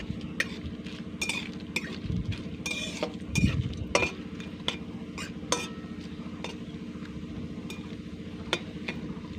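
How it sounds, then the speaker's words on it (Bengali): Cashew nuts fry in oil with cloves and cinnamon for Basanti pulao, a steady sizzle under repeated clinks and scrapes of a spoon stirring against the pan. "হালকা লাল হয়ে আসার পরে দিয়ে দিচ্ছি কতগুলো কাজু বাদাম।"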